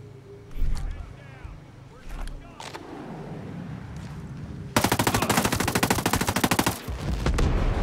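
Gunfire in the video game Ghost Recon Breakpoint, starting with scattered shots and a vehicle rumble, then a loud sustained burst of rapid automatic fire. Voices talk throughout, partly buried under the shooting.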